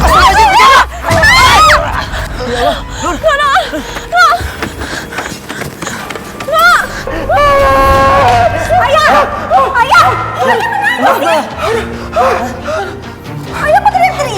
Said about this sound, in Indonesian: Ayah kok teriak-teriak?